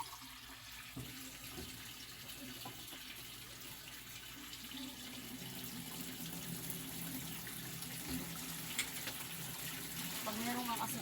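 Water runs steadily from a tap as it is drawn for drinking, a continuous close splashing flow lasting throughout, with faint background noise and no speech.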